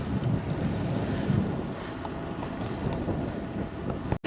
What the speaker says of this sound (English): It's hard into this wind.